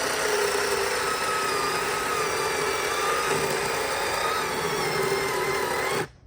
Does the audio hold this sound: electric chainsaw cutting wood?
yes